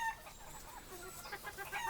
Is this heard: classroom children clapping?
no